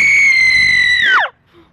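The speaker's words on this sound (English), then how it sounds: "And this is where we usually scream." A person screams outdoors: one loud, close, high-pitched cry held steady for over a second, then bending sharply downward and cutting off into near silence.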